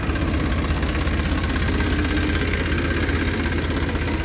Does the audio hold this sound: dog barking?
no